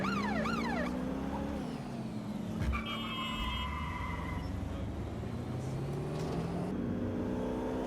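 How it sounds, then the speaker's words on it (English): A police car siren wails in Watch Dogs Legion, a rising and falling electronic tone over steady traffic rumble and engine drone, fairly faint with a later steadier siren pitch layered in. "You can turn the sirens on these if you want to."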